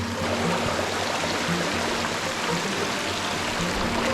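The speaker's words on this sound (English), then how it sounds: "Here's the falls." A waterfall on a forest trail heard from close by: a steady, loud, broadband rush of falling water that holds unbroken throughout, with no voices.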